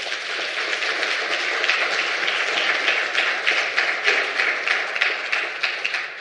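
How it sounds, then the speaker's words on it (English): Conference audience applauding steadily in a hall, a dense, even wash of many hands clapping close by for about six seconds with no talking. "we need to give you a very big, warm round of applause for that"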